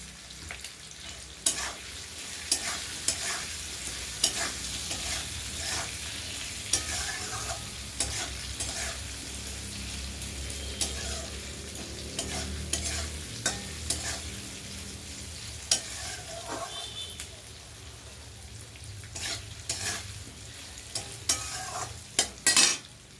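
Chopped vegetables, including green chillies, sizzle and fry in a pan, with repeated scraping and clanking of a spatula stirring them, close and continuous with no talking.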